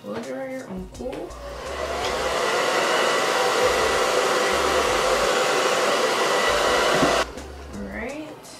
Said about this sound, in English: Take my blow dryer on cool.